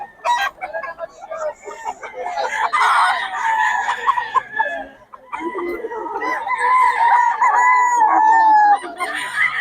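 A bull stag gamecock crows in long, strained calls and clucks between them, loud and close, with a person talking intermittently in the background.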